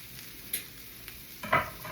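Onions frying and softening in a pan, with a quiet steady sizzle and a few brief stirring scrapes, one near the middle and a louder one toward the end.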